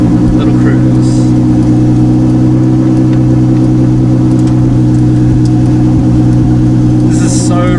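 A Ferrari 488 Challenge Evo race car's engine pulls away in first gear, a steady loud mid-pitched drone that holds throughout at close range, with a brief higher whine near the end.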